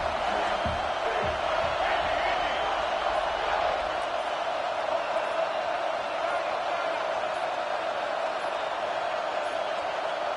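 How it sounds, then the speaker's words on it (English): Stadium crowd at Neyland Stadium roaring during a North Carolina versus Tennessee football game on third down, a sustained dense wall of cheering and yelling with no breaks, reverberating loudly throughout. "The noise reverberating off the checkerboards in Neyland on 3rd down"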